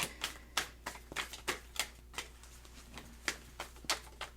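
Tarot cards are shuffled up close, giving a series of crisp, irregular riffling and snapping bursts with short pauses between them.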